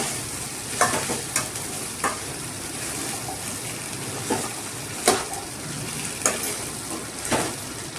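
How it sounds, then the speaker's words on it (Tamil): Boiled white chickpeas with coconut and green chilli being stirred in a pan, a continuous low sizzle punctuated by several distinct spoon-against-pan clinks and scrapes at an irregular pace. "வேக வச்சு வச்சுருக்கிற வெள்ளை சுண்டலை சேர்த்துக்கலாம் சேர்த்துட்டு நல்லா கலந்து விட்டுக்கலாம்"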